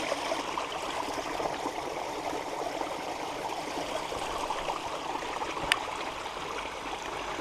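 Water from a well pouring and splashing outside a pipe on a hillside, a continuous loud rushing flow with one brief sharp click near the end.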